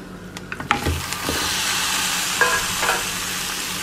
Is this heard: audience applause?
no